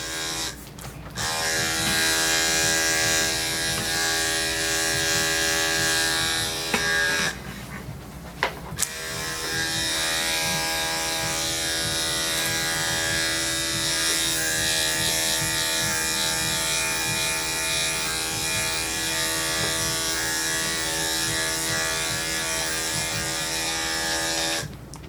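Electric pet clippers fitted with a guard trim a Shih Tzu's coat, a steady close buzzing hum that runs nearly nonstop, with one brief switch-off and restart early on and no talking.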